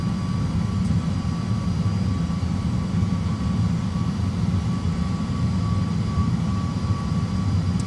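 An Airbus A320 rolls along the runway during a 38-knot, 90-degree crosswind landing, giving a steady, loud low rumble of engines and wheels with a faint whine above it. The noise stays constant throughout and no one talks.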